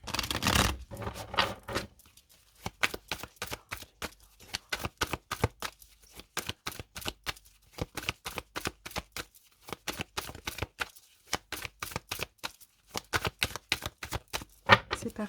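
Tarot cards being cut and shuffled by hand, a rapid run of crisp riffling bursts and slaps in irregular clusters, close and moderately loud, with no talking.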